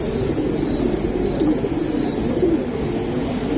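Pigeons kept at a home loft in Bangladesh, giribaz breed, cooing in a continuous low, steady murmur close by, with no talk over it.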